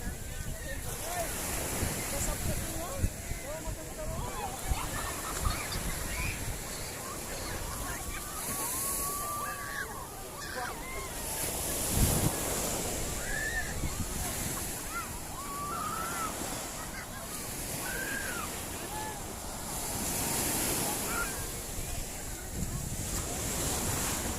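Ocean waves wash continuously onto a sandy beach at a Bolinao resort, a broad steady surf roar with gusts of wind buffeting the microphone and faint voices at times.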